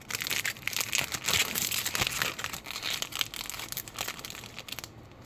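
A Magic card play booster's foil wrapper is crinkled and torn open close up, a continuous dense rustle with sharp crackling spikes that ends abruptly.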